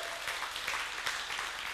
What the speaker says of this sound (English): Would you give yourselves a huge round of applause?